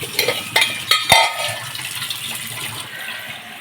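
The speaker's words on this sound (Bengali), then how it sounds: "আর একটু জল দিয়ে দিই ভাতটা" Water poured into a pot of cooking rice, a few clattering knocks followed by a soft liquid wash in a home kitchen, with no talk.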